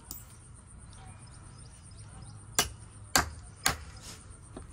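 Large size-8 nails are hammered into wooden boards while a chicken coop is built outdoors, giving three sharp, separate blows in the second half over steady low background noise.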